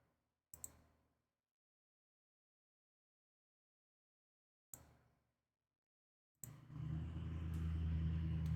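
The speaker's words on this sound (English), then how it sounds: "That's a car going past." In Minecraft, a few sharp clicks in near silence, then a car engine rises into a steady, fairly close rumble as it passes.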